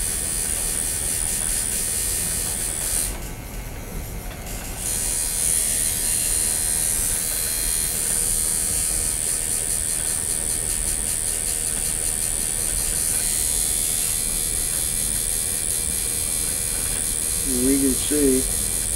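A Ground Zero Bullwhip Infinity tattoo machine buzzes steadily and continuously while gently shading over existing lines on skin, a close, even electric hum with a brief voice near the end.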